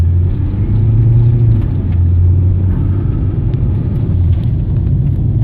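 A car engine rumbles steadily as the vehicle drives around a corner on a freshly paved street, with a low, continuous motor drone heard from inside the car at a close, loud level.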